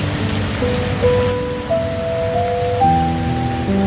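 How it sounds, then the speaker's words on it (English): Rain falls on a thatched treehouse roof in a Costa Rican rainforest, a steady close patter with soft sustained tones running alongside it. "Let the sound of the rain on the thatch above you become the only thing."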